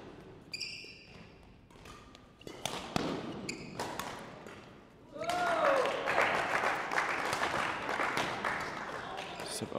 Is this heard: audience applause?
yes